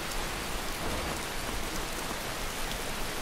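Rain in the video game Skyrim makes an even, continuous wash of patter, fairly quiet and heard alone with no voices.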